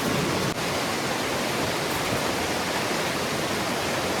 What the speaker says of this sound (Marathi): अर्धा तास पाऊस पडला आणि पाणी बघा लगेच कसा झालाय नदीला पूर्ण खदूल झाला